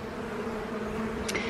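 Honey bees swarm around an open hive, a dense continuous drone of buzzing wings, close and steady, with a brief higher rustle near the end.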